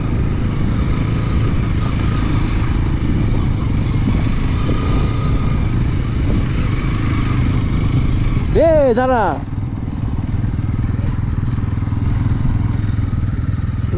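A motorcycle engine on a rough road in Yumthang Valley, North Sikkim, holds a steady close drone with a brief rising whine near the end, and a short shout cuts in once.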